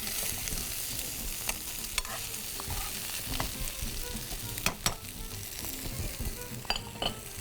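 Chicken sausage frying in a gently heated pan while being stirred, a steady sizzle with scattered scraping clicks of the utensil throughout, continuous and close.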